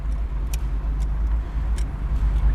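A 1960 Chevrolet Corvette convertible cruises on bias-ply tires, its engine a steady low rumble with road and wind noise and occasional faint clicks and rattles from inside the cabin.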